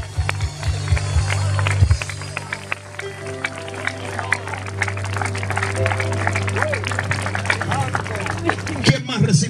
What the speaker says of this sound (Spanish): Alguien aplauda a Dios hoy